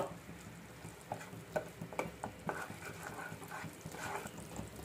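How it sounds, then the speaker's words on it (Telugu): Ghee and jaggery cook together in a pan for peanut-sesame laddu, giving a soft, close bubbling and faint sizzle with scattered light stirring clicks throughout. "కొంచెం నెయ్యి వేసుకుంటున్నాము"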